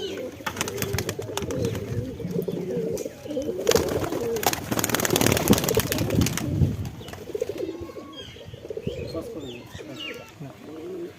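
Many pigeons cooing in a loft, a dense, continuous chorus of throaty coos and rustling, close and loud, with someone talking over them.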